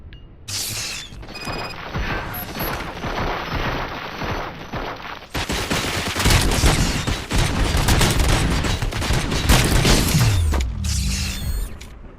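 Heavy gunfire in RoboCop Rogue City at a police station, a relentless loud clattering stream of shots mixed with mechanical ratcheting and metallic impacts, building dense through the middle before a whooshing drop near the end.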